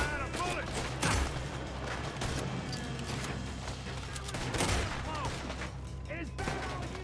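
Dense gunfire from a shootout in Red Dead Redemption 2, with repeated shots and bursts layered over a game score and ambient effects, and voices talking throughout.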